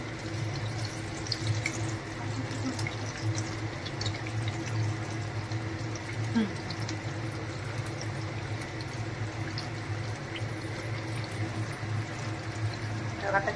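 Shepu vadi pieces frying in hot oil give a steady, dense hiss and crackle of bubbling that holds evenly at moderate loudness throughout, with a few faint clinks over it.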